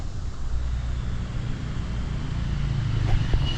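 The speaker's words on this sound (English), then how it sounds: "Car coming." A car approaches along a road by running water, its low rumble building steadily and growing louder toward the end, with no talking.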